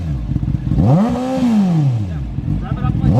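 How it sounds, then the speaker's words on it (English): A racing engine on an autocross setting is revved up, the pitch climbing and falling in one sweeping rev, close and loud, with a voice talking over it. "Just bring the RPMs up."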